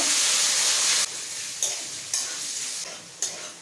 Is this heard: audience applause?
no